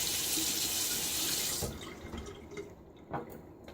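Tap water rinsing a Wolfman WR1 OC safety razor at a sink, a loud steady gush that cuts off partway, followed by a few quieter splashes and drips.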